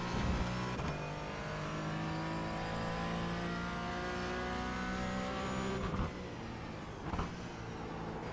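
Porsche Cayman GT4 engine lapping the Brands Hatch circuit, a steady loud onboard drone that holds strong throughout, with brief dips and gear-change breaks near the end.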